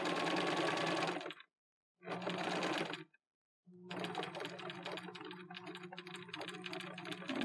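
A sewing machine stitches a medieval tunic seam in three bursts of rapid, close mechanical whirring, pausing briefly between runs as the stitching reverses to backstitch.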